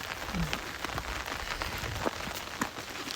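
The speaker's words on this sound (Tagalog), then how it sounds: "Umuulan na." Steady rain patters densely on a surface, with occasional louder drops standing out from the constant hiss.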